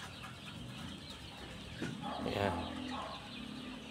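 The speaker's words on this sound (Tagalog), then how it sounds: "ito na po yung mga manok ninyo" Chickens cluck softly in a farm batch, a few short clucks rising mid-clip over a faint, noisy background, with a brief spoken word.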